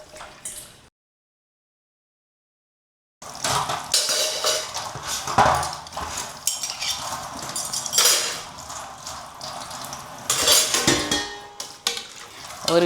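Dishes, pots and pans are washed and stacked in a messy home kitchen, with clinks, clatters and scraping in uneven bursts after a short silence.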